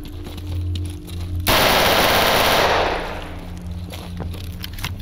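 Automatic gunfire in the video game Stalker, a loud sustained burst of rapid shots lasting about a second and a half, followed by a fading rattle over low game ambience.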